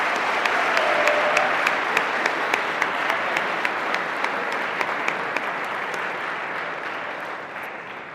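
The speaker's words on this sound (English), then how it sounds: "So if you can give them a round of applause for their help." A roomful of people at an award presentation applauds helpers, producing long, even clapping with a few sharper individual claps standing out, slowly tapering off toward the end.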